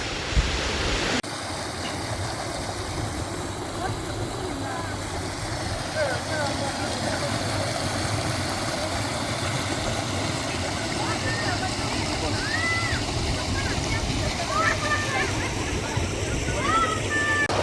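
Dainthlen waterfall and its stream in Cherrapunji, Meghalaya, roar as a constant broadband rush of flowing water heard up close, with birds chirping faintly on top and no break in the flow.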